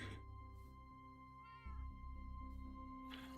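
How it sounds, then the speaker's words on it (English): Several cats meow in a video game, a clear drawn-out cry in the middle with softer mews around it, all over continuous game music. "There's plenty of cats here."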